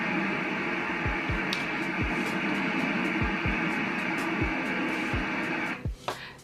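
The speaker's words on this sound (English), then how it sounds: "That was daughter's white noise machine." A daughter's white noise machine clicks on by itself on a timer, a steady broadband hiss filling the room continuously with faint low thumps beneath it, ending in a brief disturbance at the close.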